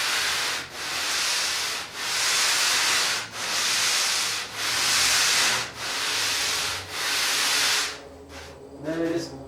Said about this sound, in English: I'm using the sanding block actually to miter the corners so that they fit and everything butts up